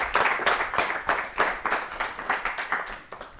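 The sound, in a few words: audience applause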